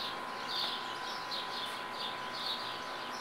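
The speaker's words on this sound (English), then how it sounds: "countless sparrows were twittering in the eaves" Sparrows twittering in the eaves, a steady wash of small chirps repeating in soft bursts over a constant background hiss, moderately distant and fairly faint.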